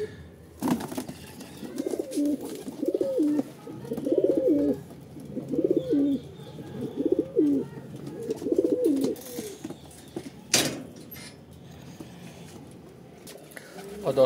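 Pigeons perched nearby coo in a steady string of low, rolling phrases, close and fairly loud for several seconds before fading, followed by quieter outdoor sounds and a brief knock.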